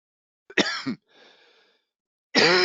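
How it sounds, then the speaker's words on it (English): A couple of sharp, close coughs, followed by a softer breathy sound, then another loud cough burst after a short pause. "Still been fighting this cough here."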